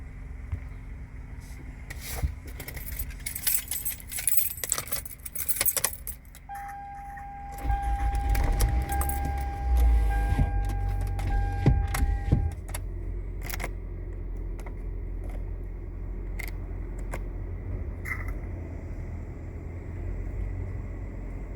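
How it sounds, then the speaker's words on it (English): Keys jangle and a car is started, then the engine settles into a low, steady idle with the air conditioning running, close by and without talk. "Start this car up, put the AC on"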